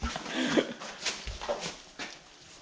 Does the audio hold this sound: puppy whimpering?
yes